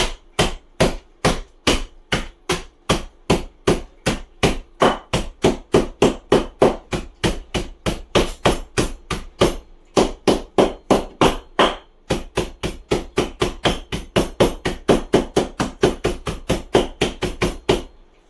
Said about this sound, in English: we're going to pound them into powder, basically